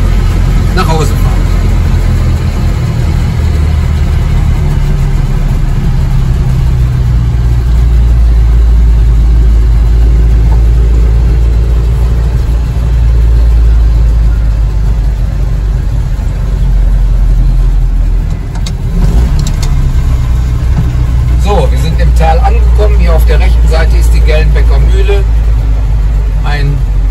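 A 1955 Goliath Goli small utility vehicle hauling a load of grain, its engine droning steadily and loudly throughout while on the move, with a voice talking over the engine noise.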